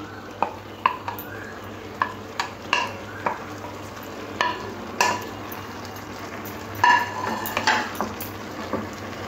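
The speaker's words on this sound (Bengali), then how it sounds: "এবার এখানে দিয়ে দেবো ভেজে রাখা আলু আর চিংড়ি মাছটা" Fried potatoes and shrimp go into a pan of cooked-down bottle gourd, followed by a steady low sizzle with repeated scraping and clinking strokes of a spatula stirring against the pan, close and clear with no talking.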